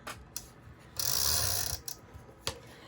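A tape runner rolls adhesive onto a scrapbook page, giving a close, steady raspy roll of about a second, framed by a few small sharp clicks of the dispenser, with no talking.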